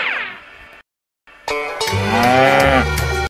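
A man imitates a cow with a drawn-out, loud mooing voice: a short falling call, a brief silence, then a longer, fuller moo held close to the microphone.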